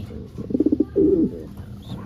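A pigeon coos close by, a quick run of soft throaty pulses followed by a longer rolling coo, then quiet.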